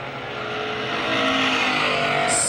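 Super stock race cars roar past in single file down the front stretch at Lancaster Speedway, a dense, loud, steady engine drone with overlapping motors and no pause.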